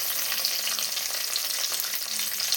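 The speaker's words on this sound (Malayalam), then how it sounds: "കടുക് പൊട്ടി ഉലുവ മൂത്ത് ഇനി നമുക്കതിൽ കറിവേപ്പില ഇടാം." Curry leaves sizzle and crackle in hot coconut oil with mustard seeds and fenugreek, a steady dense frying hiss heard close up with no voices.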